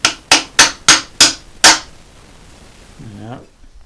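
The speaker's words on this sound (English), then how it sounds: "Let's find our hammer here and give them a wee." Six sharp metallic hammer taps come in a quick, even rhythm as bolts on a Bowers & Wilkins PV1 subwoofer are knocked loose, followed by a brief voiced murmur.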